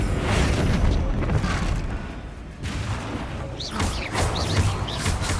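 Booming blasts from the Bombarda spell in the Hogwarts Legacy game rumble and crash over dense battle noise, loud and close, with a few whooshing spell effects trailing after.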